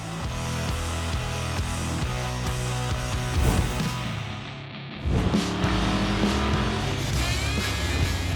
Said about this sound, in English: This is my rat rod pickup truck